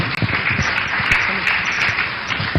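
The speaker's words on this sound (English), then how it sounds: "Please give her a round of applause" Steady applause from an audience at a women's dialogue event in Ghana, a dense wash of many hands clapping at once, loud and continuous throughout with no voices rising above it.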